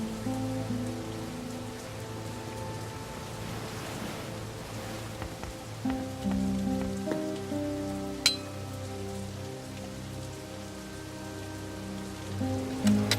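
Steady rain in The Dark Eye: Chains of Satinav hisses continuously over soft sustained game music, with a single bright clink partway through; no one speaks.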